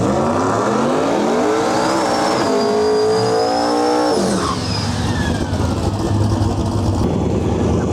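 Drag race cars at an outlaw drag racing event in Canada roar down the strip, a loud engine rising to a high rev, peaking, then cutting off into a lower rumble and crowd ambience.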